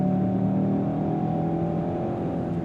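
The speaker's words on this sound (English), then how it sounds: "Just the sound of the powertrain is a little CVT-esque." A 2025 Kia K5 GT with a dual-clutch automatic accelerates, its powertrain giving a steady, smooth droning hum with a slightly CVT-like, even pitch, heard from inside the cabin with no talk.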